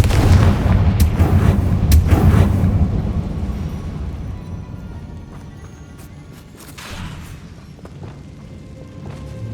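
Confringo fire-spell explosions in the Hogwarts Legacy video game: several loud, booming blasts burst in quick succession early on, then a few smaller, more distant bangs follow over a rumbling background.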